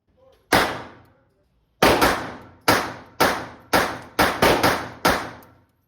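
A Beretta 30X Tomcat pistol fired through a magazine, nine sharp loud cracks with a pause after the first and then a quick uneven string, each decaying quickly, close to the shooter with no talk.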